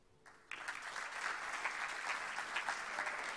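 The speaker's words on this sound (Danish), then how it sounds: "der skal I også klappe, hvis I, hvis I vil svare ja til det" After a brief quiet moment, a crowd at a Bible camp morning meeting breaks into sustained applause, close and full, continuing evenly to the end without talk.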